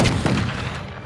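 Gunfire in the fantasy role-playing game Pillars of Eternity, a short burst of booming shots that fades quickly, loud and close with no talk over it.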